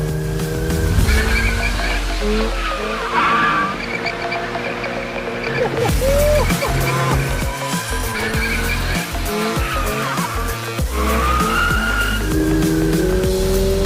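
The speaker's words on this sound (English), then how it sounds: "now let's see if we can't drift this thing a little bit" A 2022 Subaru BRZ on sport tires drifts, its tires squealing loudly and sliding in repeated bursts over a strong, rising and falling engine note, close and continuous with no talking.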